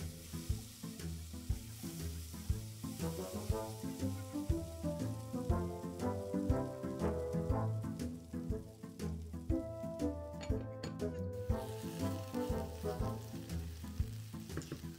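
Potatoes fry in a pan over medium heat with a steady, crackling sizzle and dense spitting pops, close and moderately loud throughout, with no talking.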